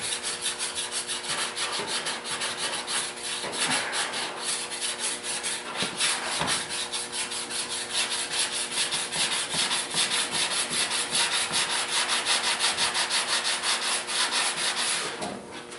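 Steady back-and-forth rasping of sandpaper rubbing on a block, a close, continuous scratchy rhythm with no talking.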